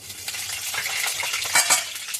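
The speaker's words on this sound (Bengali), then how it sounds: "এর ভিতরে কালো জিরে শুকনো লঙ্কা ফোড়ন দিলাম" Black cumin and dried chilli hit hot oil and sizzle close up in crackly bursts, with light stirring clinks and a sharper spatter toward the end.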